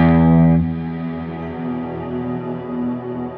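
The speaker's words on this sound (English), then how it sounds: "So the reverb gives me a perfect fifth to the note that I'm playing" A sustained distorted electric guitar note played through a Kemper Profiler with a pitch-shifted reverb adding a perfect fifth, a loud attack decaying into a lingering harmonic shimmer.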